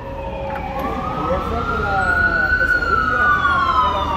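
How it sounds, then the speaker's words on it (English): An ambulance siren wails up and down over steady road and engine noise on the Las Vegas Strip, moderately loud and drawing nearer, with a second ambulance siren layered in. "One ambulance, and there's another ambulance."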